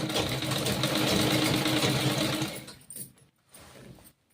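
A sewing machine runs steadily for about two and a half seconds, stitching a zip onto a lehenga, then stops and leaves a few faint handling clicks. The whirring is close and loud.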